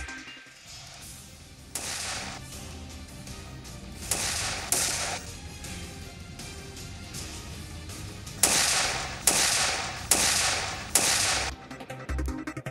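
Nine sharp gunshots crack out over a noisy background, spaced unevenly at first and then coming in a quicker series toward the end.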